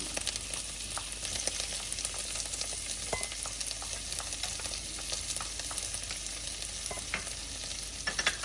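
Garlic and shallot fry in a pan for shrimp scampi, giving a steady close crackling sizzle with occasional stirring scrapes and pops, and no one speaking.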